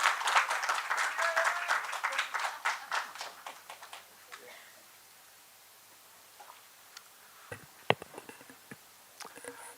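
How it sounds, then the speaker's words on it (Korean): An audience at a 2025 international temple-food symposium gives a burst of lively clapping that thins out and fades after about four seconds, leaving near silence broken by a few faint isolated taps. "다시 한번 큰 박수 좀 부탁드립니다"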